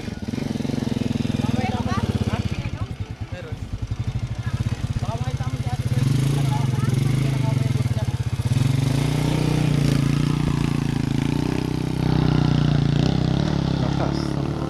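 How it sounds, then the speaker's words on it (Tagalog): A loud motorcycle engine roars close by on a rough mountain road toward a Tanay, Rizal cabin, its low drone steady for the whole stretch, with people talking over it. "Lakas ng motor."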